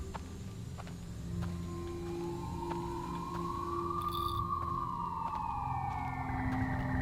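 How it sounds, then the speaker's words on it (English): A siren in a video game wails in a slow rising and falling sweep over low background hum, faint and steady with a few soft clicks. "the sirens aren't from outside my own window, but it's in-game"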